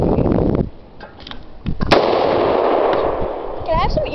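Rifle gunshots from an AK-47 and an AR-15 at an outdoor shooting session, a loud blast ringing out near the middle amid wind noise and some speech.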